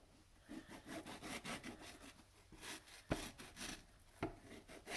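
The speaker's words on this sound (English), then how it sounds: "Okay, so I'm ready to start slicing my mango." A knife slices through a mango on a cutting board in a quiet kitchen, giving repeated soft rasping strokes with a couple of sharper taps on the board, close and fairly quiet.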